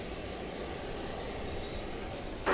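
An American Airlines Airbus A320 jet at Dallas Fort Worth Airport at night gives off a low, steady engine rumble from a distance, fairly quiet and unbroken, with a brief sharp noise right at the end.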